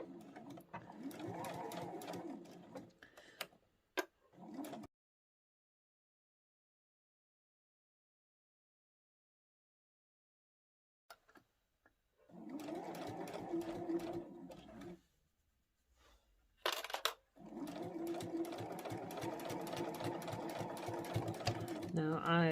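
A sewing machine stitches and back tacks a phone pouch in loud, close rapid runs, stops for a long silence of several seconds, then resumes in further bursts, with a brief voice heard between passes.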